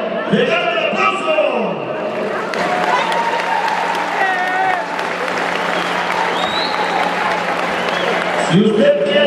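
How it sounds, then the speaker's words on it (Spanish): Crowd applause fills a university tournament in the pavilion in Morelia, Michoacán, a steady loud wash of clapping with shouting and speech mixed in throughout. "¡Legal el aplauso!"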